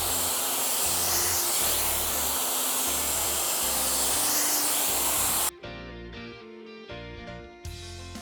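Loud, steady rush of blown air from a Dyson Airwrap hair styler, running continuously for about five seconds before cutting off abruptly, leaving quieter tonal sounds behind.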